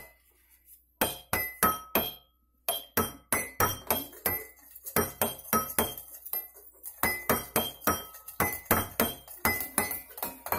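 Three glass containers tapped to play a tune, giving a steady run of bright, ringing clinks in rhythmic bursts with short pauses between phrases, close and clear with no talking.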